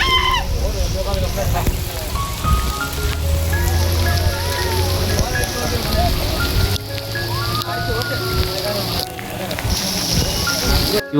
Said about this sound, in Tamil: மழையும் ஸ்டார்ட் ஆயிடுச்சுங்க